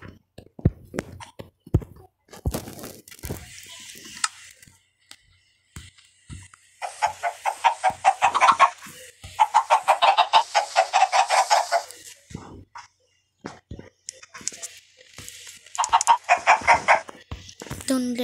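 Chickens spawned in a video game cluck and squawk in repeated bursts, with loud rapid clucking runs between quieter pecking clicks and some background game sounds.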